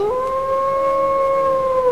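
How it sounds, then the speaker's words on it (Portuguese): A single long, eerie wolf howl in a story set on the pampas of southern Brazil, held steady and loud for nearly two seconds, rising slightly at the start with a clear upper harmonic, alone with no voices. "um uivo assustador fez com que sua espinha arrepiasse"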